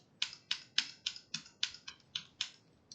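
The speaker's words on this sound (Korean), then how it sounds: "Shift 누른 채로 역슬래시 키 누르면 됩니다" A computer keyboard clacks through about nine crisp, evenly spaced key presses, Shift held and the backslash key struck, close up in a quiet room.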